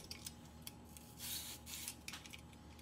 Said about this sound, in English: Peel and grate the nagaimo.